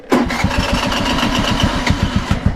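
A motorcycle engine on a ride in El Salvador cranks and sputters as it struggles to start, a steady loud rapid chugging with uneven bursts, close by and continuous throughout.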